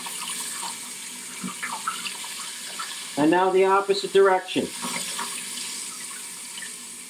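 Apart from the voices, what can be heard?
boat lateral thruster pushing water out the side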